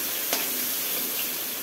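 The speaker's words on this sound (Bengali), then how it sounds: "পুরো মাছ ভাজছে" A whole fish, tilapia pieces among others, fries in hot oil with a steady, close, broadband sizzle and one brief sharp crackle early on, with no voices.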